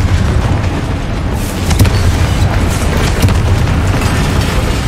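Powerful Confringo spell explosions in the Hogwarts Legacy video game, loud deep booms with sharp bursting cracks, two distinct blasts standing out over a continuous heavy rumble.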